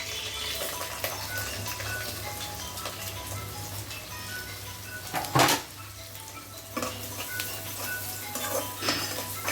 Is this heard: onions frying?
yes